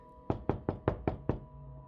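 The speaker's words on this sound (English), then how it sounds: "scurrying to the door at the postman's knock" Six firm, evenly spaced knocks on a wooden door, the postman's knock, sounding close and crisp with a short hollow ring after each rap.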